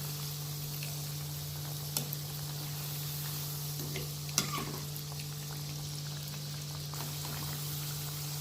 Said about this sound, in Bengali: দেখুন, আমি এইভাবে ভেজে নিচ্ছি, তুলে নিচ্ছি।